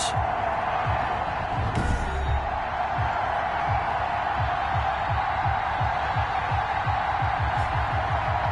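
Stadium crowd at a PS4 football video game matchup between the Detroit Lions and Atlanta Falcons, a steady roaring murmur of fans with rhythmic low thumps throughout, moderately loud and continuous.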